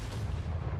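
A single heavy, booming hand cannon shot rings out in Call of Duty MW2, deep and close, with a short rumbling tail.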